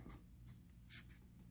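A flat-tip marker strokes across paper while an emoji drawing is filled in, giving a few short, soft scratchy swipes in quick succession, close and quiet.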